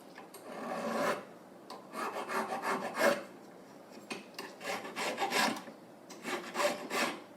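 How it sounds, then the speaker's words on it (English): A hand file rasps across a cast metal wedding band in repeated rhythmic back-and-forth strokes, close and fairly quiet, in several bursts with short pauses between them. "filing and sanding. So we get everything symmetrical"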